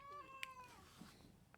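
A house cat lets out one soft, drawn-out meow that slides downward, quiet and close in a still indoor space, followed by faint small clicks.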